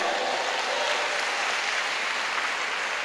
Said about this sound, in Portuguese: Só os vencedores aplaudem o Senhor